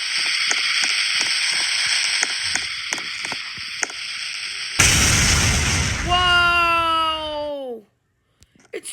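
A bomb goes off inside an office building in a video game: a sudden heavy blast midway erupts into a roaring rumble with a falling whine before cutting out.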